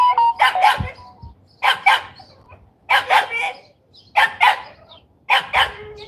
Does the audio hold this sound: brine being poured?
no